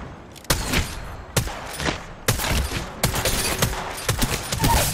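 Bursts of gunfire in Apex Legends: several sharp, loud shots and short volleys spaced irregularly across the clip over a busy game background, with no one speaking.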